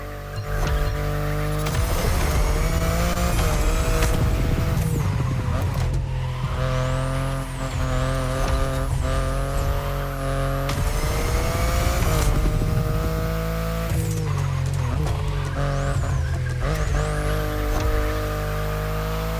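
A BMW i8 hybrid sports car driven in The Crew Motorfest: a loud, continuous engine drone with rising and falling revs and shifts, brief tire squeals, and no talk.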